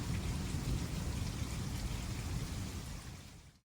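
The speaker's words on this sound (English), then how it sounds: "And we got some additional rain the next day." Steady rain pours down on an open field, a dense, even hiss close by that holds constant before fading out at the end.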